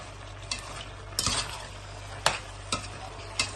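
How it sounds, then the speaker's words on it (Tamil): Sautéed tomatoes being stirred in a pot for seeraga samba lamb biryani, with steady sizzling and a few sharp spoon scrapes and clinks at irregular intervals. "தக்காளி நல்லா வதங்கும், நல்லா மேஷ் ஆகி வரணும்."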